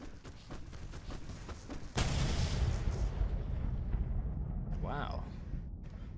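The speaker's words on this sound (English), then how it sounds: "Why was that part of the pyrotechnics?" Pyrotechnic explosions in the video game Alan Wake: a rapid string of booming bursts gives way to a loud, sustained rumbling roar that slowly fades, with a rising whistling tone near the end.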